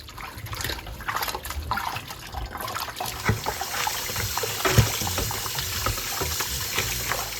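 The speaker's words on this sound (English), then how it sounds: "First we wash the oxtail with lime juice." Oxtail being washed with lime juice produces wet splashing, trickling and handling sounds, close and moderately loud, with irregular splashes throughout.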